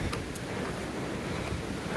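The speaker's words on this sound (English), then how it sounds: "Windy, really windy" Strong wind near the top of Blood Mountain on the Appalachian Trail roars continuously, buffeting the microphone with a dense, rushing noise and occasional gusty flutters; nobody speaks.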